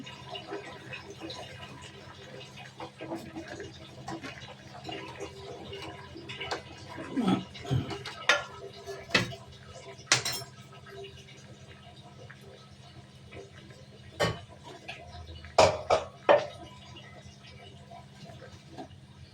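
Vegetable pieces such as eggplant, capsicum and potato dropped into a pot of aviyal and stirred, giving scattered clinks, taps and wet scraping sounds over a low steady hum, with a few louder knocks near the end.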